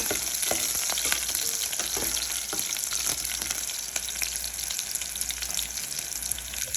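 Garlic fries in a pan for a noodle and cabbage dish and is stirred, a loud continuous close sizzle with scattered scraping and clinking, no talk.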